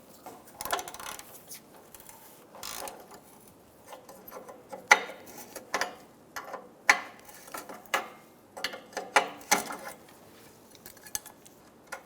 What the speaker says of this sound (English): Using a 22mm O2 sensor socket, I'm going to remove the O2 sensor.